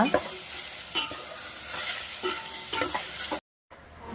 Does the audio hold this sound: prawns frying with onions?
yes